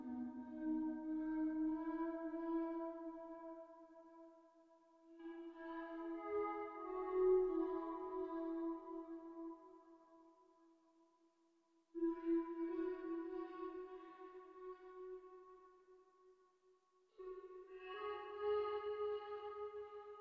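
Auto-tuned sung vocal notes drenched in a wavy sine-wave texture effect that holds each pitch with a wobbling shimmer, heard in four sustained phrases separated by short gaps, alone with no speech.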